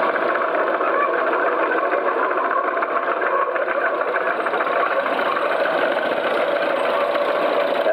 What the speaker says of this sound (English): John Deere Lindemann tractor crawler. He's towing 7 furrow marlboard plough.